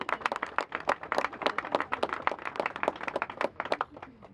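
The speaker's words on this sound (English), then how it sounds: "give him a round of applause" An audience claps and applauds at a live press event, a quick, dense run of individual hand claps close by, fairly loud and lasting a few seconds without talk.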